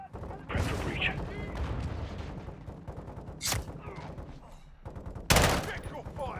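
Gunfire in Call of Duty Modern Warfare II: sharp bursts of automatic fire and loud individual shots crack close by over a dense battle din, with a few heavy blasts standing out near the start, middle and end.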